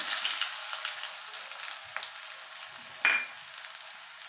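Chopped onions, two medium-sized ones, sizzle in hot oil in a pan while making a smoky eggplant mash, a steady broad frying hiss throughout with a sharper burst of spitting about three quarters of the way through; no one speaks.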